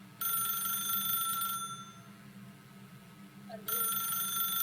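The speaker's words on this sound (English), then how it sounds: "I'm just waiting for the phone in the game." Telephone ringing in the video game The Stanley Parable, two bursts of a bright electronic ring separated by a pause, with faint murmuring in the gap.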